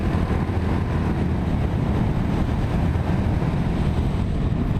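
Steady low exhaust drone from a naked touring motorcycle with baffles fitted in the exhaust, heard continuously while riding, mixed with wind rush and no talk.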